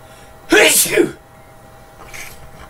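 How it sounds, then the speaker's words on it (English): A single loud sneeze bursts out close to the mic during a live team-building stream, followed by a fainter breathy sound about a second later. "I'm gonna sneeze again, guys."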